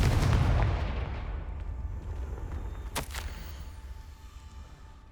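Confringo blasting spell in Hogwarts Legacy: a loud, close booming explosion that rumbles and decays over several seconds, with a sharp secondary crack partway through the fading tail.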